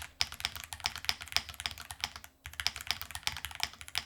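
Rapid, steady typing on an RO75 high-profile 75% mechanical keyboard, a run of close, crisp key clacks with one brief pause partway through.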